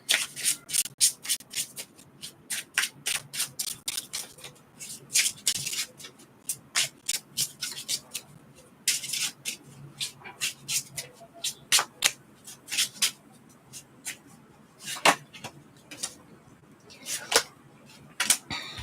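Tarot cards are shuffled and drawn by hand, giving repeated quick riffling and sliding bursts with short pauses, close and fairly loud throughout.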